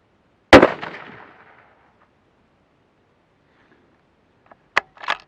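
A single sharp, loud report from a Mossberg 800B rifle firing 87 grain VMAX ammunition on a range, with a fading tail of echo, then a couple of faint, brief clicks of handling near the end.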